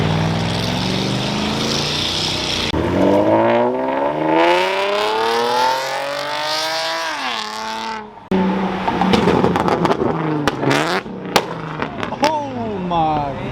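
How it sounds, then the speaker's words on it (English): Purple Ford Mustang at a Fourth of July car meet loudly revs its engine, pitch climbing and falling in repeated sweeps, with sharp pops and people talking nearby. "We got the purple Mustang rolling in."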